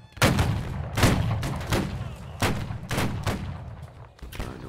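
Ragged musket volleys crack out at a Civil War reenactment line battle, about half a dozen loud overlapping bursts in uneven succession, each trailing into a brief rumbling echo.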